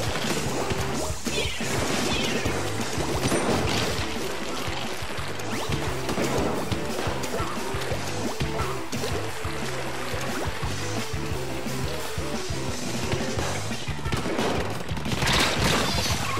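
Rapid bursts of blaster fire and paint splatter blasts crackle in Splatoon 2, dense and loud throughout with game music and effects layered underneath, intensifying again near the end.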